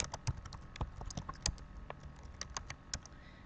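Rapid, irregular clacking of a computer keyboard being typed on close up, a dense run of sharp key taps with no talking.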